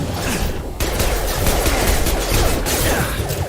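Pistol gunfire in the sci-fi shooter Mass Effect 2 amid a mech fight, loud, rapid overlapping shots and impacts forming a dense, unbroken clatter of combat.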